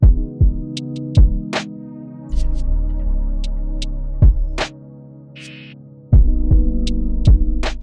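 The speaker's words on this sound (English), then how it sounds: "I decided I was going to lower the pitch quite a lot and I lowered it by 700 cents" A slow, deep sample pitched down 700 cents, with heavy low thuds, sustained hum and sparse clicks, sounding murky and dragged out.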